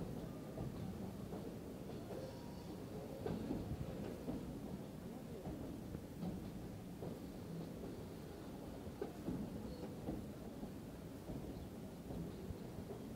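Freight train wagons loaded with stone for the Padma Bridge roll past in a continuous low rumble with faint rhythmic clatter, heard from nearby but fairly quiet.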